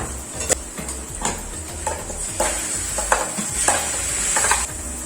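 Onions sauté in a pan for a coconut-based fish curry, giving a steady sizzle broken by repeated spatula scrapes and clinks against the pan at a slow, irregular rhythm, close up with no voices.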